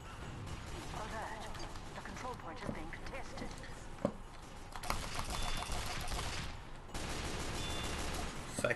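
Scout pistol gunfire in Team Fortress 2, rapid bursts of crackling shots in clusters amid busy game noise, with a voice talking over parts of it.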